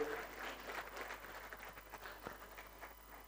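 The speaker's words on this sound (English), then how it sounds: "Big round of applause to the First Lady of Liberia." Audience at a Merck Foundation Africa Asia Luminary event applauding the First Lady of Liberia, a steady wash of clapping from a large crowd, moderately loud and continuous throughout with no talk over it.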